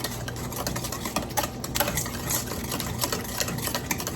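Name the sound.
whisking vanilla extract into granola wet mixture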